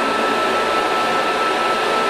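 Rotary polishing tool working the inside of a metal ring to a mirror finish, a loud, steady high-speed whirring whine held constant throughout with no talk.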